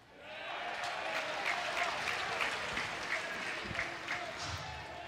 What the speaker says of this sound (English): This is as engaged a crowd as Mississippi State's had in a while here this weekend. It's living on every pitch.